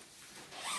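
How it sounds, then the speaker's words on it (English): The side zipper of a US Army Modular Sleeping System bivy bag is pulled in one short, faint, raspy zip that grows slightly louder toward the end. "Bivy bag has very nice zipper on the side"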